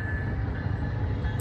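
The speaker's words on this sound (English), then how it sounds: "We got a train in the background." A train rumbling past in the background, a steady low continuous roar with a faint tonal hum, brief and unbroken.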